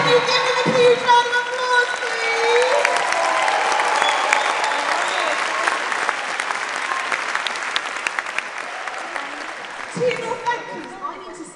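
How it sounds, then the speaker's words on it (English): A large crowd applauds a band at a winter concert, dense and loud clapping that swells, holds steady and then thins out, with scattered voices and cheers mixed in. "can you give them a huge round of applause, please?"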